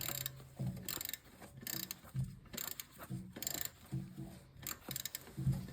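Ratchet clicking in repeated bursts while cranking the alternator belt tensioner on a 2005 Honda Civic, with several close strokes separated by short pauses and no talk.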